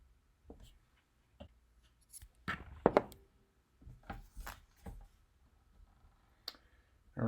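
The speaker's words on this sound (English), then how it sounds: "So drawing a ellipse there." A pencil sketching an ellipse on paper during clothed figure drawing practice, heard as faint, scattered scratches and light taps that come in short bursts with quiet gaps between them.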